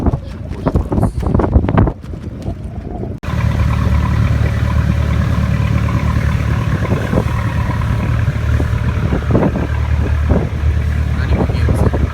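A glass-bottom boat's engine drones steadily as it departs port at Yoron Island in strong wind, a loud continuous low rumble mixed with wind noise, following a few seconds of clattering activity.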